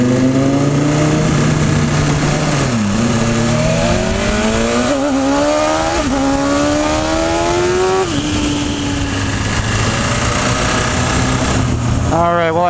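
A 2020 BMW S1000RR sport motorcycle engine roars loud and close while riding, revs climbing through repeated gear shifts with rising and falling whine, a voice briefly audible over the constant engine noise.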